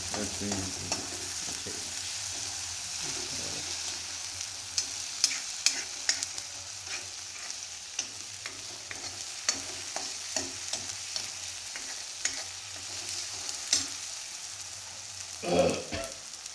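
Onions kept moving in a frying pan give a soft, steady sizzle, broken by frequent light scrapes and taps of the spoon, while a paneer dish cooks at low to moderate volume.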